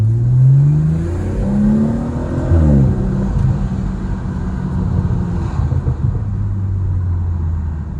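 A BMW 440i Gran Coupe xDrive engine revs up and falls back while driving at night through city streets, loud and close, then settles into a steady drone with no talking. Exhaust pops are not clearly distinguishable.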